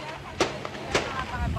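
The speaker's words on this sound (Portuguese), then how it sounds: "Tiros" Two sharp gunshot cracks during a prison riot at Alcaçuz penitentiary in Rio Grande do Norte, Brazil, spaced about half a second apart and fairly distant, over background noise.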